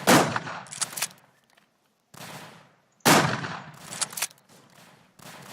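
Rifle gunfire in a WWI battle game set at Tannenberg, with loud close bursts of shots and clanging impacts in two main volleys separated by brief quiet gaps.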